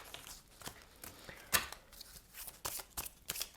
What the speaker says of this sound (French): battre les cartes parce qu'il y en a 150